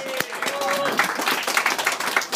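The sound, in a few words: comedy club audience applauding the new judges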